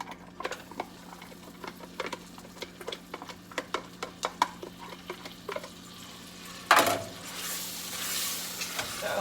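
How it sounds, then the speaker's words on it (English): Butter and cream cheese melting with garlic in a hot pan for Alfredo sauce, giving sharp scattered pops and crackles over a soft sizzle, then a louder burst and a steadier frying hiss near the end. "That butter is kind of popping."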